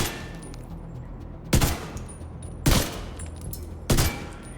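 Three loud, separate bursts of gunfire in The Division 2, each a sharp blast spaced about a second apart over a low in-game background hum, with no talking.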